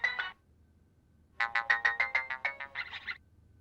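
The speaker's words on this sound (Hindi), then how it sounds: "कितनी देर से फोन रिंग कर रहा था" A phone ringtone plays in a quiet room: one short burst, a pause, then a longer run of rapid, bright electronic tones pulsing in a steady rhythm before stopping.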